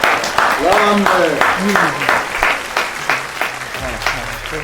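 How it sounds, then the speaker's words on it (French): An audience applauds during a comedy show, with clapping heard under a voice speaking and melodic vocal sounds over the first seconds. "Applaudissez encore"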